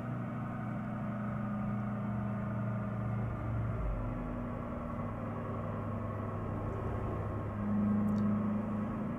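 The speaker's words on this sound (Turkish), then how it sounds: "Motor sesi biraz yani gerçekçi olmamış" Volkswagen Passat B8 engine in Euro Truck Simulator 2, a steady low droning hum with even tonal bands that holds constant throughout and swells slightly near the end, with no voices over it.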